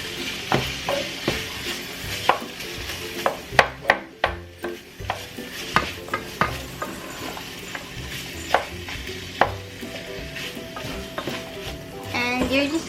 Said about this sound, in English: you're just gonna saute this until the pork is nice and brown